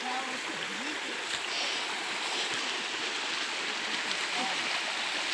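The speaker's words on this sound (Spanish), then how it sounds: "Quiero que escuchen el sonido del río" A river flows in a steady, full rush of water outdoors, a continuous broadband hiss and gurgle that stays constant and fairly loud throughout, with no clear talk over it.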